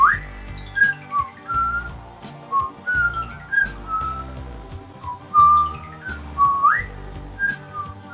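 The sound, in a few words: whistled melody in music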